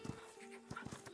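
A dog in the video game Last Day of June gives quiet, short panting and whimpering sounds in a few soft bursts, faint and close.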